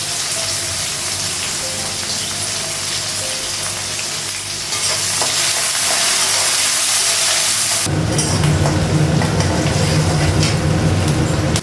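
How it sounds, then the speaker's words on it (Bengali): Onion and green chili fry in a pan with five-spice seeds, a loud, dense sizzle that swells louder partway through, close up and unbroken by talk. "পেঁয়াজটা ভাজা হয়ে গেছে।"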